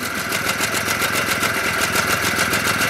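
Rebuilt Mobylette X1 moped engine running, a fast buzzing two-stroke putter with rapid even pulses throughout, close and steady, with no speech over it.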